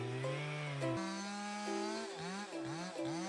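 A 52cc gasoline chainsaw with a 3.2-horsepower engine and 20-inch blade cuts into a large tree. Its buzzing drone is faint and shifts pitch several times as the engine revs up and down.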